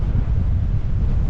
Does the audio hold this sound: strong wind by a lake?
yes